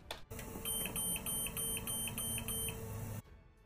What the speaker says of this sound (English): a high water alarm with visual and audible alarm to the pilot station